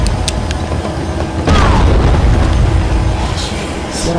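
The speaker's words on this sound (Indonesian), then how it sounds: "Ledakan. Oh itu Carlito ngelemparin bom." A bomb goes off in the video game Dead Rising, a loud rumbling blast that jumps in at about a second and a half and keeps booming under a dense, noisy game soundscape.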